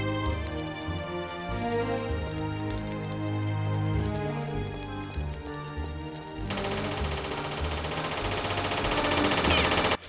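Automated turret in Tomb Raider's military police area firing rapid, sustained bursts of close gunfire that keep going for the whole stretch, over a layer of game music.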